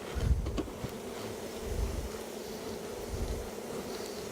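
Honey bees buzz around an open hive as honey is being pulled, a low steady drone with a few louder swells as individual bees pass close.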